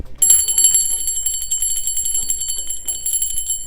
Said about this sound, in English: I'm going to ring the bell for my spirit guides, guardian angels, and ancestors